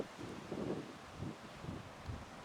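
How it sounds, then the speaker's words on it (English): Wind gusts buffet the microphone at a cold, drizzly, deserted beach, low rumbling puffs rising and falling in several bursts with no voices. "It was a little bit cold and windy and drizzly, so the beach was pretty much deserted."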